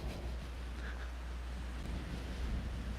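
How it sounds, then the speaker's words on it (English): Wind blows outdoors on a cool, gusty day, a steady low rumbling roar buffeting the microphone with no pause. "It's about 62 degrees, but it's windy."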